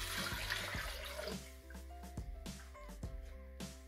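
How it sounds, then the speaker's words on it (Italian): Water pouring into the mixing bowl of a Thermomix TM6 kitchen machine while preparing roast beef with potatoes; a steady splashing gush at first, then sparse knocks and clinks with a low hum underneath. "Mettere nel boccale l'acqua"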